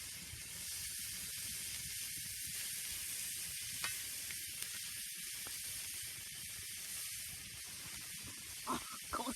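Spring onion and silver beet fry in a hot pan over an outdoor motorbike cookup, giving a steady, loud broadband sizzle and hiss with faint crackles throughout and a few louder pops near the end.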